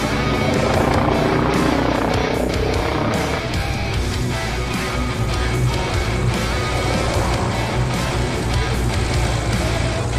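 A helicopter performing aerobatics roars close by with a continuous rotor thrum and engine drone, loud and steady throughout with slight shifts as it maneuvers.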